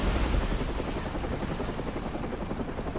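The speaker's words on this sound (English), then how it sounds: "Or sorry, the news helicopter." A news helicopter in Batman: Arkham Origins thumps steadily overhead, its dense rotor chop loud and continuous throughout.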